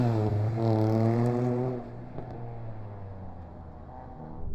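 A Toyota Yaris rally car engine revs hard nearby on an Anglesey stage rally, a strong rising harmonic note for under two seconds, then fading into a quieter, more distant rumble.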